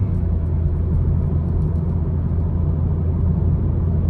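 Loud, steady low exhaust drone and rumble from a BMW 440i Gran Coupe xDrive with its muffler and resonator deleted, continuous and close throughout with no talking.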